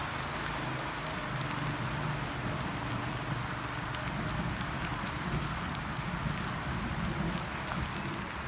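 Rain comes down after a sunny morning turned cloudy, a dense, even hiss of drops on surfaces that holds steady throughout with no voices.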